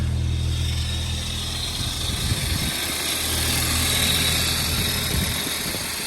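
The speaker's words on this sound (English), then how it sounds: "lovely ticking over engine TFSI. It's quite loud" A Mk5 Golf GTI TFSI petrol engine ticking over nearby, a steady loud idle drone with a faint high whine and slight fluctuation, heard alone without talk.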